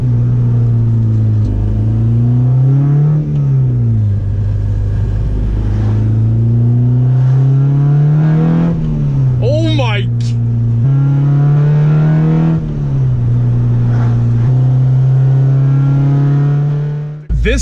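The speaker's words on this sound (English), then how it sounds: "VTEC is so freaking loud, I can't even describe it, guys." A Honda VTEC engine running with no muffler and an aftermarket header revs hard and steadily, a loud, raspy drone that rises and falls through several pulls while the car cruises, with no talk over it.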